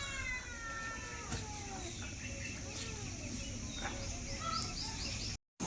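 A cat meows several times in a rising and falling wail, fairly close, outdoors in the morning while a car is being washed, over a steady background hiss.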